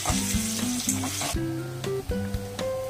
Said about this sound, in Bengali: এবার আমি ভাজছি আলুগুলো।